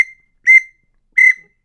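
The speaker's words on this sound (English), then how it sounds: "He also makes these little whistles" A small handmade wooden whistle gives short, bright, high toots: a clipped one at the start, then two separate blasts about half a second apart, loud and close with silence between them.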